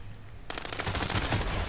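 Rapid automatic gunfire from Call of Duty: Warzone erupts after a brief quiet moment, a loud, continuous burst of close shots carrying on to the end.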